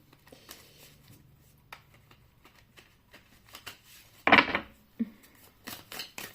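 Oracle cards shuffled by hand, scattered light riffles and slides with one louder burst of shuffling near the end, close and quiet, no talking.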